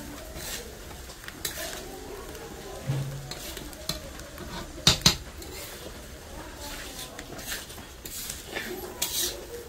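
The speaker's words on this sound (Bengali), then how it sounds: "এটাকে ভালো করে এখন মিক্স করে কষবো চালটাকে, মশলাগুলো যাতে মিক্স হয়ে যায়।" Rice being stirred and fried with spices in a pan, a steady soft sizzle with scraping stir strokes throughout, a couple of sharper utensil knocks near the middle, fairly close.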